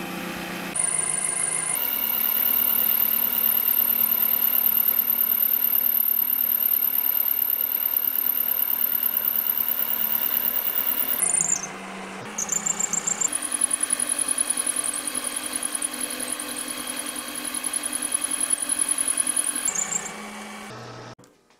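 An end mill cutting a die fed by hand on a homemade lever-operated rotary table on a milling machine, a steady loud motor whine with a high squealing tone, briefly dipping mid-way before resuming, then stopping at the end.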